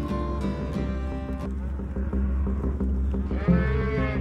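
Cattle lowing repeatedly during a spring cattle drive in the Owyhee Mountains, several moos from different animals overlapping at close to moderate distance, with a louder drawn-out call near the end.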